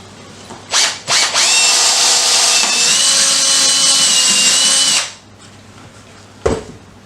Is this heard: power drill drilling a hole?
yes